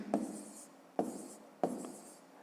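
A pen writes out a math answer on paper at close range. Three quick, faint scratching strokes come at roughly even intervals in a quiet room.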